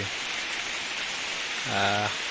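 Rain falls beneath trees in a forest as a steady, even hiss of drops with no distinct patter, and a short tonal voice-like sound rises briefly near the end.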